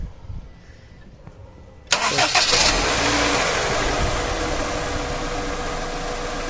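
A car engine is cranked and catches after a quiet stretch, then settles into a loud, steady idle close by in a repair setting.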